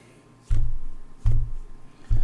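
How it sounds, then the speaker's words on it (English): Three dull, heavy thuds of a head hitting a desk, a little under a second apart, low and close, with quiet room noise between them. "that was the sound of my head hitting the desk repeatedly"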